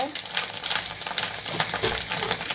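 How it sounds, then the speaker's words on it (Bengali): Hilsa fish roe fries in a pan with onion, giving a steady, dense sizzle that crackles close and loud throughout, with no voices. "তো এটা হচ্ছে ভেজে নিচ্ছি ভাজা ভাজা করে তারপরে ব্লেন্ড করব"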